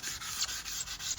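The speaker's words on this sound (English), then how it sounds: "Now continue sanding with progressively finer grits." Fine-grit sandpaper worked over an aluminum diamond-cut wheel gives a steady, close, scratchy hiss with slight rhythmic swells from the back-and-forth strokes. Nothing else is heard.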